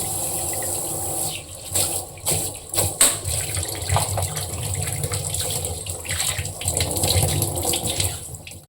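Tap water runs steadily into a kitchen sink while dish scrubbers are rinsed under it, a continuous close gush broken by brief splashes and clatters of handling.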